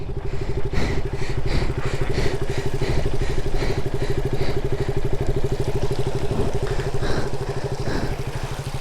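A motorcycle engine runs on the Zojila mountain pass, a loud, close, steady rhythmic thumping throb that continues throughout with a few faint clattering knocks.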